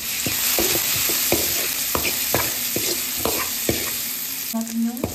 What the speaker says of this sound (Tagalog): Mainit ulit tayo ng mantika. So, ilalagay na natin yung luya.